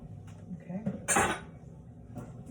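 A spoon stirs rice with water in a pot for arroz con gandules, producing soft scrapes and one louder metallic clatter, quiet and close.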